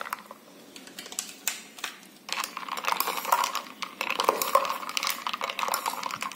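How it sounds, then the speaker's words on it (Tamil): Ice cubes drop into a melon milk drink with a run of sharp clinks and clatters, close and distinct against quiet. "இப்போது சில்னஸ்க்காக ஐஸ் க்யூப்ஸ் வந்து ஆட் பண்ணுறோம்."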